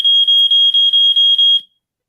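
A smoke alarm beeps loudly in a rapid, even run of about seven piercing pulses, then falls silent.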